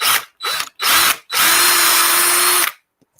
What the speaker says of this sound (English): Remove that drill bit, put in my final drill bit.